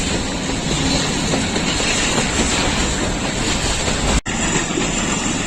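A Pakistan Railways passenger train, the Rawalpindi Passenger, rolls along the rails near Haripur Hazara, heard from on board as a loud, continuous rumble with rhythmic wheel clatter and no talk.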